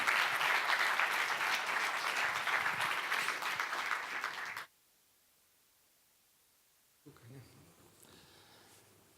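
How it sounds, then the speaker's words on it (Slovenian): Audience applause at a Slovenian program closing ceremony, a loud sustained wash of clapping that cuts off abruptly into silence, followed by a voice beginning to speak. "Lepo prosim za velik aplavz."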